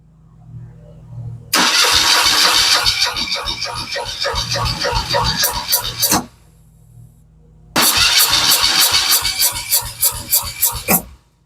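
An engine cranks over with the throttle held wide open during a compression test, two long bursts of rapid, loud rhythmic starter churning separated by a pause, each several seconds long and close up.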